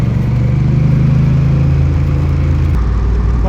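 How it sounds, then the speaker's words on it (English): A Honda Rebel 1100 motorcycle engine burbles along steadily in second gear at about 20 mph, a loud, close, low throbbing rumble with a slight drop in tone near the end. "This is a nice meaty sound from the engine just now, burbling along at 20 miles an hour in second gear."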